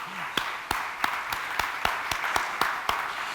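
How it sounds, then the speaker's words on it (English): A small audience at the Dayton 2019 LGBTQ history awards gives a round of applause, a few distinct, sharp, rhythmic claps standing out over a light bed of scattered clapping, fairly close and moderate in volume. "So give yourselves a big round of applause."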